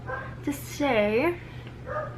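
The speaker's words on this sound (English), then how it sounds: "Excuse my dog barking in the background." A dog barks and whimpers close by in a home, a few short yelping calls heard under and between a person's speech.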